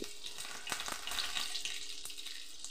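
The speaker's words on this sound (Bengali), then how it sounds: "তেল ভালো করে গরম হয়ে গেলে পনিরের টুকরোগুলো এর মধ্যে দিয়ে দিচ্ছি" Paneer pieces frying in hot oil in a nonstick pan over a medium gas flame, a steady close crackling sizzle with a few sharper pops, no voices.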